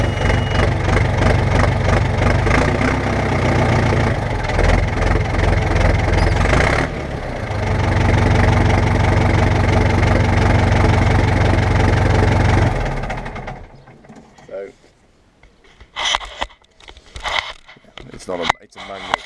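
Ford 6610 tractor diesel engine idling steadily at close range for most of the stretch, a low continuous chugging rumble, before cutting out into quieter scattered knocks and handling noises.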